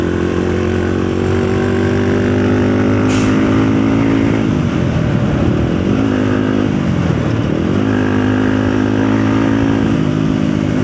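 A motorcycle engine drones steadily on a solo ride down a mountain road, near and loud, its pitch sweeping down and back up twice as the rider shifts or eases the throttle, with wind noise throughout.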